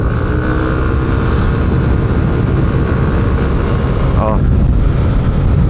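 A Yamaha Aerox SP 155 scooter with YECVT drones loudly and steadily while riding, engine roar mixed with strong wind rush, and someone briefly speaks over it.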